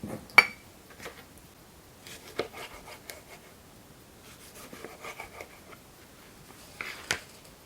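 Glass jars clink and knock faintly a few times while being packed with layered tomatoes and onion for canning, scattered light taps spread out over several seconds.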